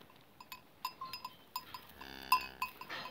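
Sheep, including a wild sheep with a small one, bleat in a quiet outdoor setting, with several short calls and a longer bleat near the end, accompanied by faint clanking like a cowbell and no voices.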